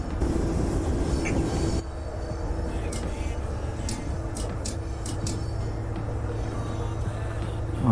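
Locomotive with two wagons in the MaSzyna train simulator, a steady low rumble of rolling stock with a brief shift near the start and a few sharp clicks or clanks scattered over the run, no voices.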